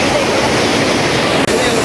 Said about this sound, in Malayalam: നമ്മളിത് ആ വെള്ളച്ചാട്ടത്തിൻ്റെ ഏകദേശം അടുത്തെത്തിട്ടോ